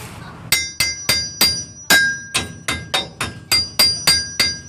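A hammer strikes a 1993 Toyota pickup's front suspension about a dozen times in a steady rhythm. Each blow is a loud, close metallic clang with a brief ring.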